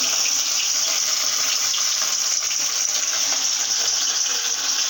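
Fish dropped into hot oil in a kadai sizzles loudly and steadily, a dense, constant frying hiss with no pauses.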